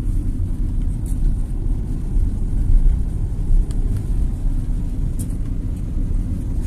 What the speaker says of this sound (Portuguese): Faz uma aceleração, ouviu o barulho do motor começar a querer gritar